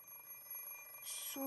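An alarm clock in the Fate/Stay Night video game rings, a bright electronic chime that rises in pitch near the end over a faint, steady background hum.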